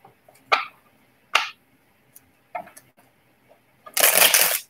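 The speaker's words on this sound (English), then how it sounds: "I shuffled the card" Several crisp riffles of a card deck being shuffled are heard, three or four short, sharp bursts spaced apart and then a longer, louder rush of cards near the end, close to the listener and without talk.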